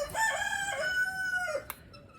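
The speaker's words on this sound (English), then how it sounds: "noisy rooster" A rooster crows once nearby, a long drawn-out call lasting under two seconds and ending with a brief click, with no talk over it.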